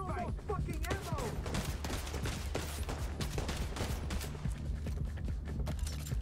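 Gunfire in The Division 2, a rapid, dense stream of shots and mechanical clatter from an ongoing firefight, with a brief voice near the start.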